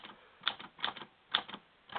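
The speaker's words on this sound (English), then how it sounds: "typing a letter, and the typewriter will walk a little bit around a smooth surface" Keys striking on a typewriter resting on a smooth surface, typing a letter: four quick clusters of sharp clacks at a steady pace, close and fairly quiet, with no voices.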